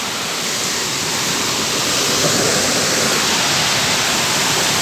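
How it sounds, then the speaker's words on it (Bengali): A waterfall cascades down over rocks, a loud, dense and unbroken rush of water close by that holds steady for the whole stretch with no voices. "দেখুন এখানে ঝর্ণা যা সুন্দর আমি আর কখনো দেখিনি।"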